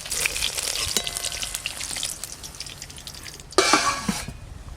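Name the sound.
frying cauliflower and egg pieces in oil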